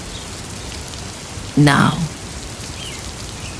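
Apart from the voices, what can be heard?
rain falling gently on windows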